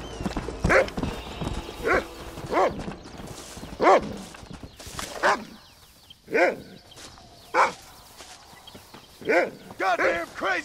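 A dog in Red Dead Redemption barks repeatedly and loudly in sharp, spaced bursts, sometimes doubled, with horse hooves clopping faintly underneath.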